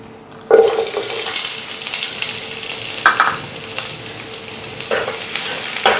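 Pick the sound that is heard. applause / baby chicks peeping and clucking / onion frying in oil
onion frying in oil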